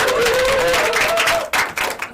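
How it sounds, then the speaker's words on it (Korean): An audience at a Korean real estate investment seminar claps briskly and loudly, the applause thinning and breaking up near the end. "박수로 모시도록 하겠습니다."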